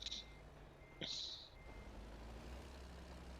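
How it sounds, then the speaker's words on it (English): Truck reversing beeps in the video game Microsoft Flight Simulator, two sharp electronic beeps about a second apart over a low engine rumble. "Annoying beepity beeps."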